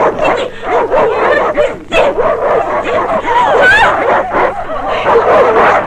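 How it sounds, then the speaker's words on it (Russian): Several dogs bark, yip and whimper loudly in a frantic, continuous burst as they are set loose to attack, close by and mixed with shouting voices. "Миле, пускай собак!"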